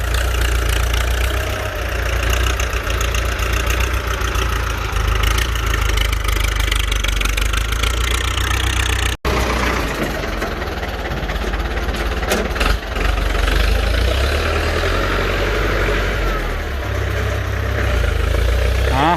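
A Ford 5610 tractor engine idles with a steady, continuous low rumble that stays close and even throughout, broken only by a momentary drop midway.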